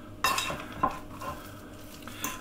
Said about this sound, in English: I'm just mashing with a fork,